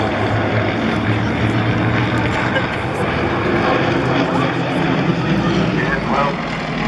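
Aerobatic plane flying a loop at the Cosford Airshow in 2013, its engine a steady, broad drone over crowd noise and wind, with a faint rising whine near the end.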